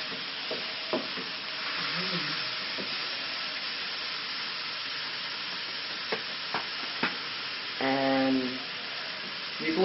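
Onion and carrot frying in a pan, a steady soft hiss of sizzling with occasional scraping stirs and a brief louder rattle near the end, fairly quiet and muffled.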